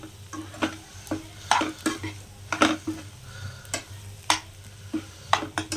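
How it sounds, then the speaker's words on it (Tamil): Egg pepper fry is stirred in a pan after black pepper goes in, giving repeated sharp scraping clinks of a spoon against metal over a low, steady sizzle, close and without talk. "பெப்பர் போட்டு நல்ல ஒரு பேட்டு பேட்டிக்கலாம்"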